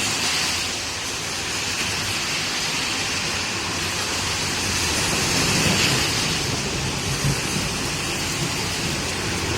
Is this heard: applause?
no